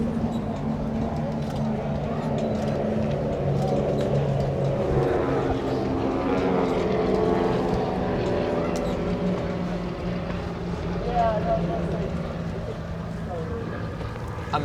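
An aircraft flyover passes above a college sailing team race championship, a sustained engine drone swelling and fading beneath ongoing commentary voices.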